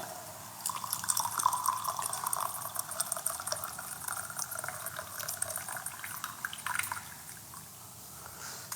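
Tea pours steadily into a cup nearby from a gaiwan, a continuous trickling splash that tapers off near the end.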